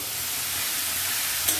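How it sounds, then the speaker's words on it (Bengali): Papaya being stirred in a hot pan, heard as a steady close sizzle and hiss with one faint click near the end. "পেঁপেটাকে দিয়ে ভালো মতো নাড়াচাড়া করে মিশিয়ে নেব।"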